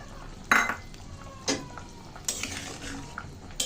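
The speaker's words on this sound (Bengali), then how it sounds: "ভালো করে মিশিয়ে দিচ্ছি বড়াগুলো" Fried lentil dumplings (dal bora) are stirred in a pan with cumin, ginger and salt: a few distinct scraping clinks of spoon on metal at irregular intervals over a faint frying hiss, no talking.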